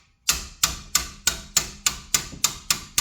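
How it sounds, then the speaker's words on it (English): Nine sharp, evenly spaced metallic hammer blows ring out close and loud against the rear brake caliper of an Audi RS5 Sportback, each strike decaying quickly before the next in a steady rhythm. "I just do it with a hammer"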